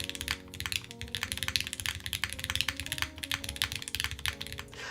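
Fast, steady typing on a Mode SixtyFive mechanical keyboard fitted with clacky switches, a dense run of sharp, close keystrokes with a soft background tone.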